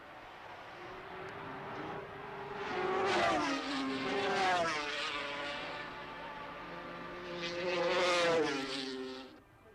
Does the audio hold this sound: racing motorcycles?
yes